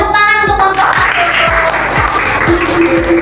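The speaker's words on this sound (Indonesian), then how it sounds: "tepuk tangan untuk kelompok 1" Applause rises from a primary school classroom for group 1, a dense burst of clapping from a small crowd of children lasting the whole moment, with a few voices mixed in.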